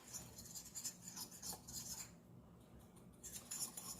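Real salt being stirred in a bowl with a utensil, giving quiet scraping and clinking strokes in an uneven rhythm that pause briefly in the middle before resuming, close and faint.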